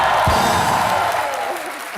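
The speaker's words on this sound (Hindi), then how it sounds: "सोनाक्षी के लिए जोरदार तालियां होनी चाहिए पहले तो।" Studio audience applause for Sonakshi on a comedy talk show, a short, loud rush of clapping with some crowd noise that begins with a thump and gradually fades over two seconds.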